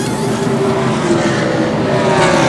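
NASCAR Busch Series race car in a 2001 race pulling away from a green-flag pit stop, a steady loud engine roar with tire noise filling the whole stretch, close and continuous.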